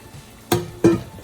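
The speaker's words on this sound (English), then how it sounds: "I cook it on high heat because I love the sizzle and the crackle when everything is cooking down" Keema with peas cooking on high heat gives two short, close bursts of sizzle and scraping, with a faint metallic ring under the second. Nobody talks.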